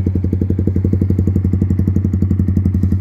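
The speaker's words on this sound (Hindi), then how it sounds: "ठीक है, ये नॉर्मल स्टार्ट है इसका" Yamaha R15 V4 motorcycle fitted with an SC Project carbon exhaust, idling steadily right after a start, with a loud, close, even thumping exhaust pulse and no voices.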